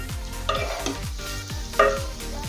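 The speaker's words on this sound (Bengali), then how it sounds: "কিছুক্ষণ সময় নিয়ে একটু ভেজে নেব।" Leftover rice stir-fries in a pan for bhat bhaja, a spatula scraping and tossing in repeated rhythmic strokes over a steady sizzle, close and distinct with a couple of sharper knocks against the pan.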